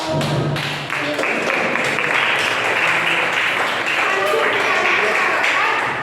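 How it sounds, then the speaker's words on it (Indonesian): A classroom audience of students bursts into loud, sustained applause for a presenter, dense clapping filling the whole stretch with a few voices mixed in. "tepuk tangannya dong"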